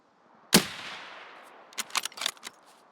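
A single loud, sharp gunshot from the video game Escape from Tarkov cracks out with a reverberant tail, followed by a cluster of quicker, softer cracks and impacts.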